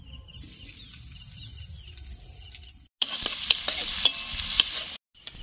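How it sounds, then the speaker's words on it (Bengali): Chopped onion and green chillies frying in mustard oil, a quiet steady sizzle that jumps to a loud, bright crackle with stirring scrapes midway, then cuts off briefly. "দু মিনিট পেঁয়াজটা ভেজে নেওয়ার পর"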